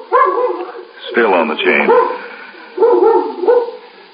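Dog barking on a chain in an old-time radio drama, short sharp barks in a couple of bursts, fairly close and loud, mixed with people talking over the top.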